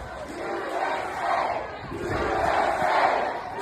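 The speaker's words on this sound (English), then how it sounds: "they're not only booing Youngkin, but they're also drowning him out with chants of "we're not going back."" A large rally crowd booing and chanting a slogan to drown out a speaker, a dense, continuous roar of many voices swelling in two broad waves, loud and sustained throughout.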